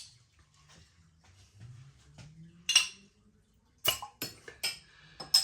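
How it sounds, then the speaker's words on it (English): Schultheiss Pilsener beer poured from a bottle into a glass, a faint trickle and fizz followed by several sharp clinks of glass, quiet and close. "Let's get it out into a glass and see what we get."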